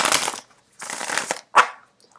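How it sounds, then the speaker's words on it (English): Tarot cards shuffled on top of a tablecloth, three close riffling bursts, the first two longer and the last a short sharp flutter, with no talking. "it's really difficult to shuffle on top of this tablecloth"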